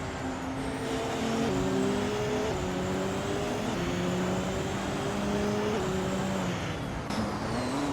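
Race cars in a video game surge off the start at Ricardo Tormo, a 2016 Audi R18 LMP1 leading the pack, their engines a loud, steady, overlapping roar with rising and falling gear-change pitches throughout.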